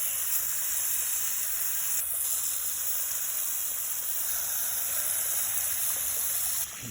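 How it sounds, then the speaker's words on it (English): Water from a hose rushes steadily down a 3-inch sluice carrying heavier material during a silver cleanup, a constant loud hissing gush with no talking. "Just gonna try to use the hose and move the heavier material down the sluice."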